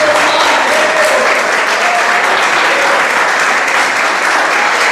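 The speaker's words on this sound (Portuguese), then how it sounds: "Dê uma salva de palmas para Jesus." A church congregation applauds loudly and continuously, a thick unbroken wash of many hands clapping that holds steady throughout, close and full with no speech on top.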